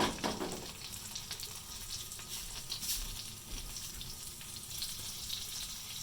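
Steak sizzles in a hot frying pan, a constant crackling hiss with a louder initial burst as it hits the pan.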